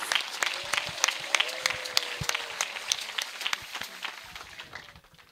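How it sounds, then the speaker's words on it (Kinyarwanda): Steady applause from a crowd, dense clapping throughout with voices mixed in, gradually tapering off at the end. "Amashyi kwa Yesu."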